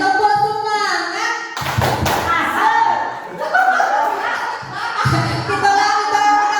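A group claps a rhythmic cheer clap at a school or workshop gathering, with brisk bursts of hand claps mixed with voices and talk throughout.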